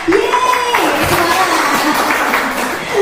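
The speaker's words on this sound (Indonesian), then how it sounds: "Tepuk tangan buat Bapak." An audience claps for the village head at an outdoor community dialogue event, a dense patter of applause that continues under a speaker's voice.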